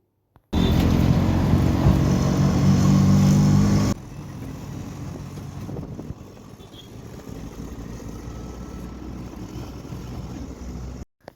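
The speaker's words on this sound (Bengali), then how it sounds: "আমরা সবাই মিলে এখন অটোয় বসে পড়েছি" An auto rickshaw carrying a group of passengers drives along, its engine a steady close rumble that is loud at first, then drops to a quieter, continuous running drone for the rest of the ride.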